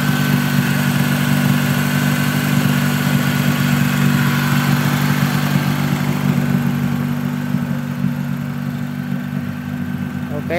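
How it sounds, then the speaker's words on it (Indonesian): A 2000 Toyota Soluna car engine idling, a steady, close, low mechanical rumble with a smooth even hum that fades slightly toward the end, no talking. "kering halus juga ini mesinnya."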